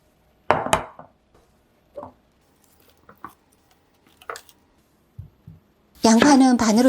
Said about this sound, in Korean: 양파는 반으로 자른 다음